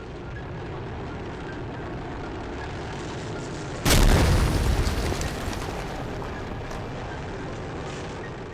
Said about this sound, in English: she heard a loud explosion elsewhere in the castle.